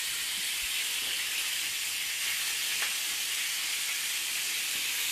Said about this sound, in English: let's turn over those pork chops